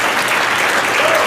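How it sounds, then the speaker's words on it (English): A live event audience breaks into sustained, dense applause at a motivational business talk, loud and continuous for the whole moment with no pauses. "clap for that because that's crazy"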